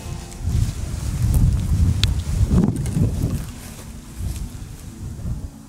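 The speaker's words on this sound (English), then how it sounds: "It's awful windy out here." Gusty wind blows across open Kansas country during a deer hunt, a low rushing buffeting that swells and eases over several seconds, with faint rustling and no talk.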